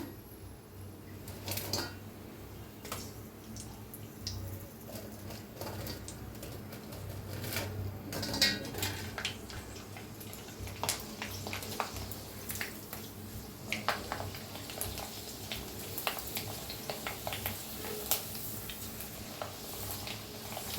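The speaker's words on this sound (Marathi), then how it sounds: "कुरुड्या बी तळूया" Kurdai sizzling and frying in hot oil, a steady bubbling crackle with occasional stirring scrapes, continuous and moderately close throughout with no talking.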